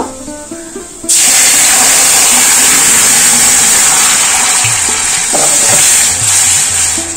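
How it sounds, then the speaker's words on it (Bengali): Nalte greens tipped into hot oil set off a sudden loud hissing sizzle that fills the pan and holds steady, with faint clinks of stirring near the end. "এর মধ্যে আমি শাকটা এবার ঢেলে দেব।"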